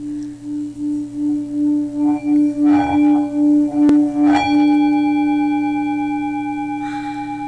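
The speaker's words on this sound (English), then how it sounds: "it rings out this beautiful bell sound" A small bell rolled around its edge rings with a clear, sustained metallic tone, struck a few times and left to hum and fade out slowly.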